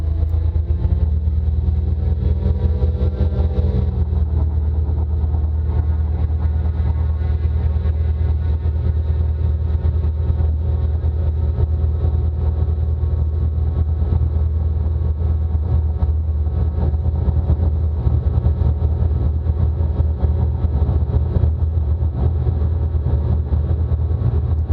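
The Raptor prototype aircraft's engine runs at a steady governed idle, a loud continuous low drone with a strong fundamental hum and harmonics, unchanging for the whole stretch with no talking.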